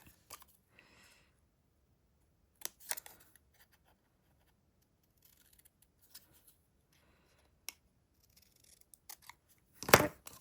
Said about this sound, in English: I'm just going to do a snip in the middle. And a snip at each side to that middle mark.